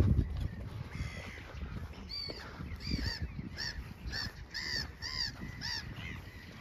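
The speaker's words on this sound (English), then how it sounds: "These seagulls really love to hang out" Seagulls call repeatedly over a pond in the old town of Tikhvin, Leningrad Region, Russia, with harsh overlapping cries rising above a steady background rumble and no speech.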